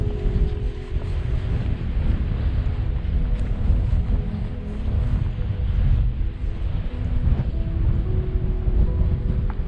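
Strong wind gusts across the microphone at a windy mountain gap near a car park, a constant loud roaring rush that does not let up, with no voices.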